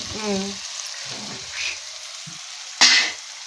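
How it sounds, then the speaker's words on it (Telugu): Coriander added to a chicken curry frying in oil gives a steady sizzle, with a sharp burst of louder frying near the end, while people talk over it. "ఇప్పుడు కొత్తిమీర వేసుకుంటున్నా."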